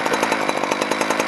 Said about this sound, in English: Chainsaw's still running there, just letting the beast cool off a little.